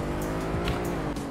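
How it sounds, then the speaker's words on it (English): Race car engine in the Roblox Greenville roleplay game accelerating at a race start, a loud continuous motor drone with rising revs and brief tire-squeal bursts, no talk over it. "start your engine"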